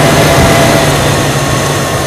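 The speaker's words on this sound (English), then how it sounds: "Now I'll monitor both vacuum gauges while the engine idles." A Buick LT1 V8 car engine idles steadily in a service setting, a loud, constant low rumble with an even hum and no pauses or voices.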